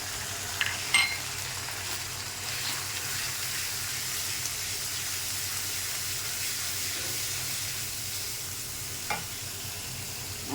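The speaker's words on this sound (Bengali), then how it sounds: "পেঁয়াজ রসুন ভাজা হয়ে গেছে, আমি মশলাটা দিয়ে দিলাম তেলের মধ্যে" Spices added to hot oil with fried onion and garlic for a fish curry, a soft continuous sizzle with light stirring scrapes and occasional clicks, close and fairly quiet.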